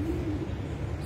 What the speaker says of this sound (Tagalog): Maraming kalapati dito, oh.